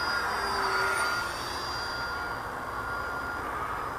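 An FMS Yak-130 radio-control model jet flies overhead, giving a faint, steady whining hiss that fades slightly as it passes at a distance, with no voices.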